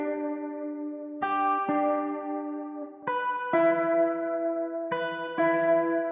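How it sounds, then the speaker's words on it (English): Clean electric guitar notes and chords ring out one after another, each sustained with a wide, spacious reverb tail, alone without any voices. "Then I have this electric guitar in Arcade."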